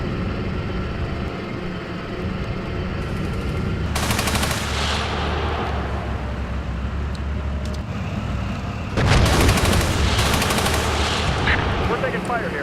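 Gunfire in the Steel Beasts tank simulator game: rapid machine-gun bursts crackle over a rumbling vehicle engine, with a louder, denser burst later and speech in between.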